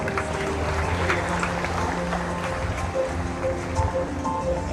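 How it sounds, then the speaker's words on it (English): Audience applause at an award ceremony for people with disability, with a crowd clapping steadily and densely throughout, loud and sustained. "So let's give a round of applause."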